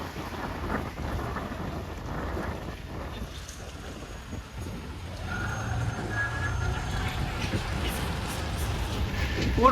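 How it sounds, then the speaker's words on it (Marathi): Heavy road traffic with trucks, out on a rough off-road stretch. A dense, rumbling roar of engines stays steady throughout, while a beeping signal and a distant horn rise out of the drone and a voice speaks faintly beneath. "भरमसाठ ट्रॅफिक आहे दाखवतो"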